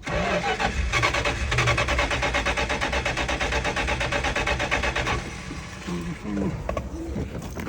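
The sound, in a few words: 1967 Dodge Polara engine cranking, trying to start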